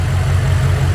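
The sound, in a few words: BMW X6M engine idling after first start-up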